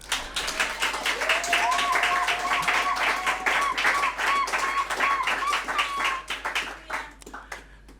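A church congregation at a Sunday service claps and applauds steadily for several seconds, a dense rhythmic patter with a sustained tone and voices mixed in.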